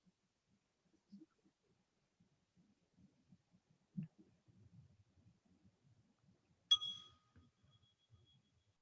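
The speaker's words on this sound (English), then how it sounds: "as I ring the bell" A single clear bell strike rings out near the end and decays with a long shimmering tone, breaking an otherwise near-silent space that has only faint low rustles.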